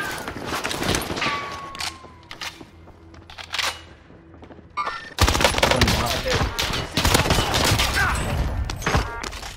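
Gunfire in the Warzone battle royale, with bursts of rapid automatic shots and scattered single cracks, sparse at first then a dense loud fusillade, voices talking throughout.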